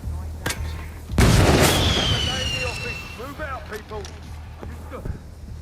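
Virtual gunfire in the Hitman VR game lands as a heavy boom followed by a falling whine and scattered clatter, with a few fainter pops afterward.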